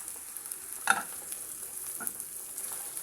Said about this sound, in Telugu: ఇలా ఎర్రగడ్డ ఫ్రై అయిన తర్వాత మనం లివర్ వేసేసుకోండి